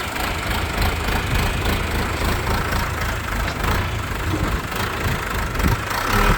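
A scraper vehicle's engine runs steadily on a sheep farm, giving a continuous, moderately loud mechanical rumble at an even pace with no voices.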